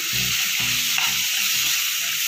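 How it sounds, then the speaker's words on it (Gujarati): Masala with tomato and onion sizzles loudly in a pan as a spoonful of water goes in, a steady broad hiss with a brief flare near the middle and low spoon scrapes underneath. "મસાલા બળી ન જાય એટલા માટે આપણે એક ચમચી જેવું પાણી એડ કરીશું"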